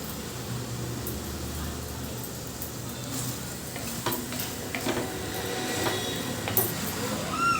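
Prawns with mutton and mushroom frying in a pan, a soft continuous sizzle with occasional stirring clicks, fairly faint and steady with low background hum.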